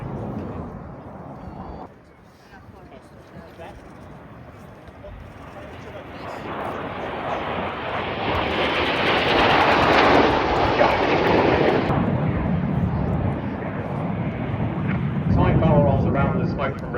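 Red Arrows jets passing over the RAF Cosford air show, a broad engine roar that swells to a loud peak mid-clip and stays strong, with a commentator talking over it throughout.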